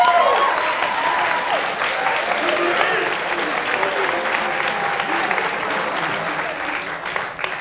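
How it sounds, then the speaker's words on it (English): Dense audience applause fills a crowded commencement ceremony at a technology school, steady and loud throughout with a few voices faintly mixed in beneath the clapping. "Round of applause for that."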